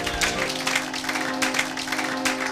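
A church congregation applauds in steady, continuous clapping that holds at an even level throughout, with a faint hum of voices under it.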